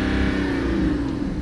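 A BMW 5 Series F10 engine revs under acceleration after an EGR valve repair, a steady loud mid-pitched drone held close throughout the short burst.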